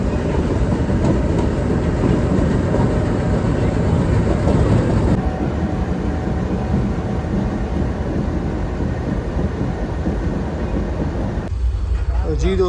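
Pakistani GEU20-class diesel locomotive 4565 rumbling loudly nearby at Karachi City railway station as it moves to couple at the head of the Farid Express, a steady engine drone with mechanical clatter throughout.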